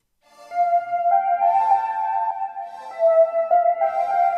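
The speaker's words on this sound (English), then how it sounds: "This lead sound sounds like this." A bright synth lead for a dancehall/afrobeats beat, shaped by an added effect, plays a short sustained melodic line of gliding, held notes, clear and upfront with no talking.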